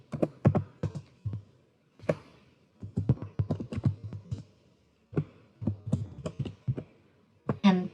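Someone types VTP configuration commands on a computer keyboard, producing close, crisp keystrokes in irregular bursts separated by brief pauses.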